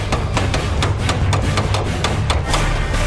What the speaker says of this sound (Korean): 꺽쇠 끝을 때려 그 반동으로 접혀 들어간 모서리 쪽을 당겨낸 다음 망치로 두들겨 가장자리 면의 각도를 살려내는 작업자